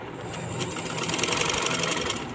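An electric sewing machine stitches a kameez with a fast, steady mechanical whir and rapid needle clatter, close up and continuous, its speed rising slightly toward the middle.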